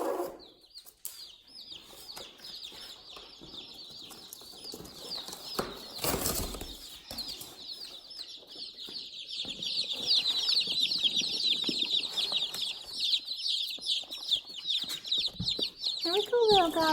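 Baby chicks being placed into a brooder peep in a dense, high chorus that grows busier, with wing flutters and handling thumps, and a person speaking briefly.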